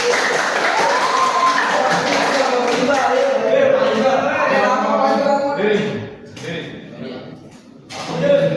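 A classroom group claps and applauds amid loud chatter, the clapping continuing under voices before tapering off into scattered taps.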